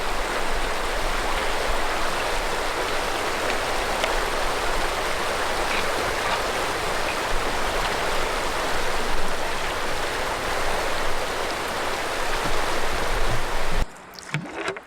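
River rapid water rushes loudly and continuously at close range, a dense unbroken roar that ends abruptly at the very end.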